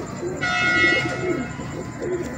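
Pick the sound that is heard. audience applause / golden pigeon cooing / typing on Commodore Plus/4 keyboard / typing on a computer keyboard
golden pigeon cooing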